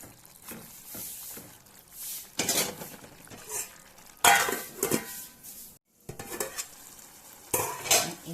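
Vegetable curry being stirred in a metal pan after salt and curry leaves go in, with repeated scraping bursts of spoon on pan over a soft sizzle, close and moderately loud, with brief pauses between strokes.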